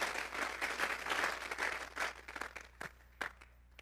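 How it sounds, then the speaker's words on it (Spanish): A church congregation claps together in a burst of applause that fills the first couple of seconds, then thins into a few scattered claps and faint shuffling. "Vamos a regalarle ofrenda de palmas al Dios de la gloria."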